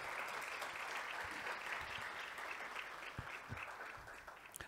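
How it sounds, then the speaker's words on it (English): A room of attendees at a mid-year budget speech gives a big round of applause, a dense continuous patter of clapping that stays strong, then thins slightly toward the close with a few distinct claps. "Let's please give Mr. Sam Shivute a huge round of applause."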